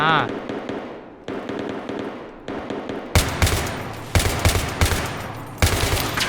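Automatic gunfire in the video game Battlefield 3, loud rapid bursts of shots with pauses between them, a player talking excitedly over the action.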